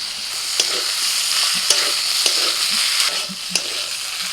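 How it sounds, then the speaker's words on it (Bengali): Chopped tomatoes stirred into a pan of red prawns with ginger-garlic paste and salt, giving a close, bright, continuous sizzle broken by repeated light scrapes and taps of the spoon. "একটু নাড়াচাড়া করে দিয়ে দিচ্ছি টমেটো কুচি"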